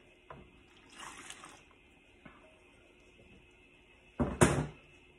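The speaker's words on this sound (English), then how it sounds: "I'm going to add 567 grams of room temperature water to each one" Room-temperature water is poured into a bowl for a bagel sponge, heard as two short, soft splashing pours, the second louder and closer, against a quiet background with no voices.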